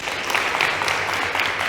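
Audience at a STEM careers event giving a round of applause, a continuous, moderately loud patter of many hands.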